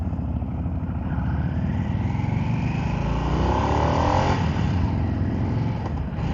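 A 2023 Harley-Davidson Nightster Special rumbles along under a rider, its engine drone rising and falling through gear changes with wind buffeting, loud and close.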